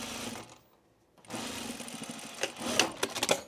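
Sewing machine stitching loose pre-quilted jacket fabric: a short whirring run, a brief pause, then uneven mechanical stitching bursts that grow louder toward the end.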